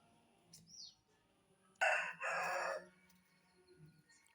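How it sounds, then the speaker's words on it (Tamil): A rooster crows once, loud and near, in a drawn-out call after a few faint bird chirps, with quiet surroundings. "சேவல் தான் கூவுது"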